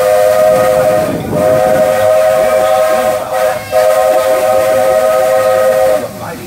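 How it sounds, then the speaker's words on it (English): A steam train whistle blows long and loud in a steady tone, broken by a few short gaps, over hissing steam and rumbling machinery. "The mighty trains that powered the golden age of steam."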